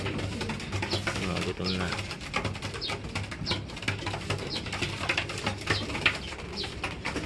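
Young pigeons coo and flutter inside a flyer loft, and their soft, repeated calls mix with steady background noise while a person speaks briefly over them.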